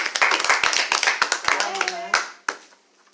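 A small group claps for a few seconds at a neighborhood association meeting, a scattered round of applause that fades out with a couple of final claps.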